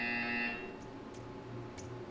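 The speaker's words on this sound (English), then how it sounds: "When you hear the buzzer, stare at the art." A game buzzer in Portal 2 sounds a steady, bright electronic tone for about half a second, then cuts off, leaving only quiet room tone.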